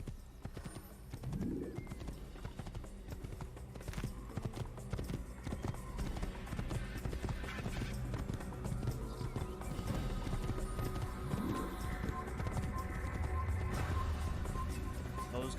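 Horse hooves gallop steadily in the video game Assassin's Creed (Director's Cut), a continuous rapid clip-clop on a path with an occasional neigh, loud throughout with brief talk over it.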